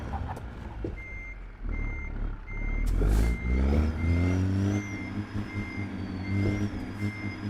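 Reversing beeps from a Peterbilt 389 truck in American Truck Simulator, a steady series of evenly spaced high beeps over the diesel engine's low rumble, with a loud hissing air release midway and the engine revving as it backs.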